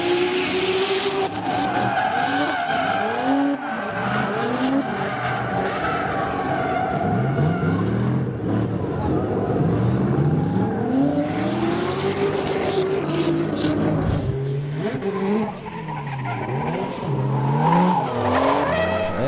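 Drift cars at Tours Speedway during a round of the French Drift Championship, including an orange BMW and a white Nissan S13, roar and scream with continuous tire squeal and revving engines, loud and close throughout.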